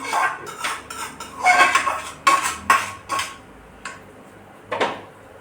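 Roasted white semolina for rava ladoo is scraped out of the pan onto a metal plate, with repeated close metallic scrapes, clinks and knocks of a spoon against metal in irregular bursts and no speech.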